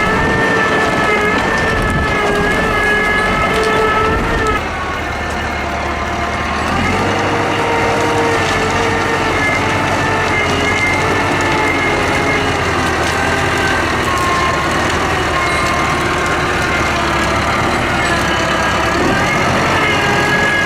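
A tractor engine works hard nearby during wildfire conditions, a loud continuous diesel drone with a steady low hum and shifting tonal whine, briefly easing before surging back and holding strong throughout.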